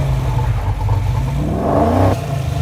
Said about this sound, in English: I like to start with the exhaust sound.